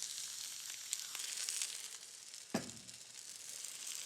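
Water hitting a hot pan of chili and spinach mixture, a steady hissing sizzle with a sharp burst partway through as the liquid lands, close and moderately loud, no talk over it.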